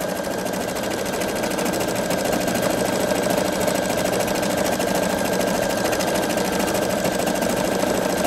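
A Pfaff Creative 3.0 sewing machine stitches out an embroidered border pattern of houses and trees, whirring in a steady, rapid, continuous mechanical hum with no pauses.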